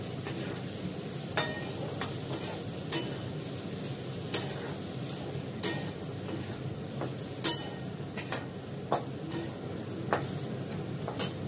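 Food sautés in a pan under a soft, continuous sizzle, punctuated every second or so by sharp scrapes and taps of a spatula against the pan, fairly quiet and without talk.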